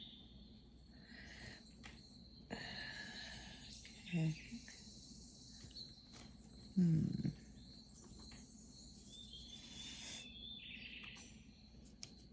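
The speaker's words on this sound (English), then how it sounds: "I love the sound of birds and the crickets" Faint crickets and occasional birdsong drift through a quiet outdoor setting as a steady high chirring, with a few soft thumps and a brief spoken word over the top.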